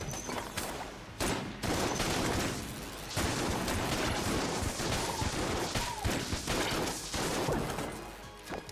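Gunfire sprays continuously from a gun in the video game Enter the Gungeon, a loud, dense stream of rapid shots and crashing impacts that runs almost without pause, with brief dips between bursts.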